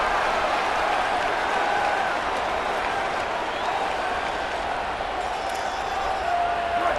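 Stadium crowd at an Iowa college football game roaring steadily behind the defense on a late third down, a dense continuous wash of cheering and clapping that stays loud and even throughout.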